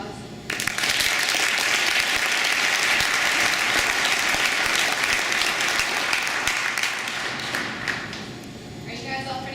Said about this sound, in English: Could we give the Sanford Memorial Veterans Committee a round of applause?